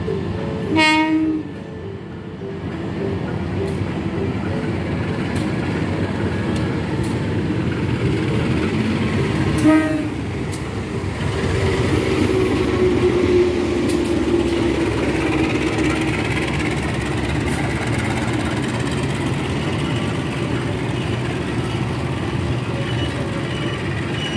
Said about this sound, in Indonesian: kita lihat kereta api Sawung Galih dengan lokomotif vintage tiba di stasiun Terisi